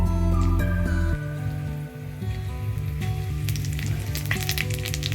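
Chillies frying in hot oil in a pan for a chicken kosha, giving a steady, close crackling sizzle that runs throughout over a low tonal background.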